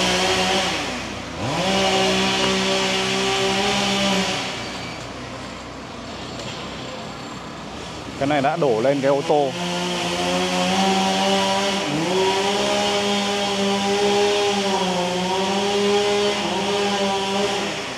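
Chainsaw cutting up the trunk of a large tree uprooted by Typhoon Yagi, whining steadily with pitch dips as it bites into the wood; someone talks over it.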